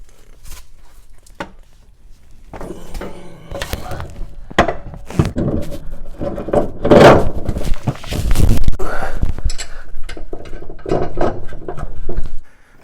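Strut mount nuts on a 2011-2019 Ford Explorer are tightened with a ratcheting tool, giving rapid clicking bursts and metallic clanks close by amid shuffling handling noise.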